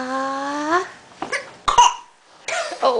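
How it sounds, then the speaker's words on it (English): A dog coughs in a few short, rough bursts close by, with a brief voiced whine at the start and gaps between the coughs. "You just farted and coughed at the same time."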